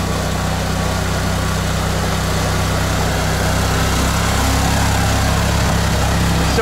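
The engine of a Snow Leopard off-road vehicle runs continuously during its first trials, a loud, steady low drone with no talk over it.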